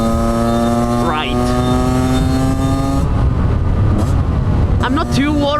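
Engine of a project two-stroke motorcycle running lean, revving and holding a steady harmonic drone with pitch rises near the start and end, under continuous voice.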